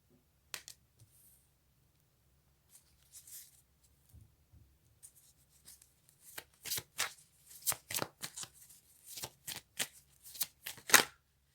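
Tarot cards handled and drawn during a reading, soft sparse shuffles at first, then a run of crisp close riffling and card slaps growing denser and louder, with no talk.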